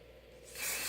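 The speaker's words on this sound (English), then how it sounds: "pull the hairspray can away and spray" A hairspray can sprays onto styled hair in one short hiss that swells louder in the second half, close and alone.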